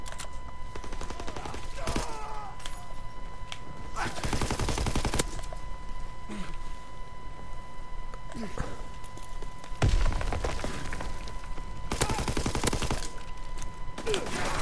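Bursts of automatic and single-shot gunfire from a Call of Duty WW2 free-for-all match, several loud volleys separated by short gaps over steady game background noise.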